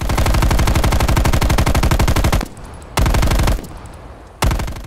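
Loud, close automatic gunfire from Call of Duty played on a PS5 with a DualSense controller. One long rapid burst is followed by two shorter bursts, with brief quieter gaps between them.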